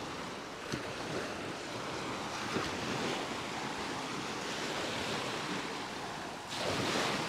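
Sea waves wash and fizz steadily around someone paddling at Platja de Muro beach in Mallorca, a soft continuous surf hiss with light wind and no voices.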